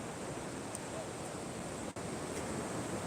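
Sea waves washing slowly onto a beach, heard as a steady broadband rush of surf and wind that stays loud and even throughout, with one brief dip near the middle.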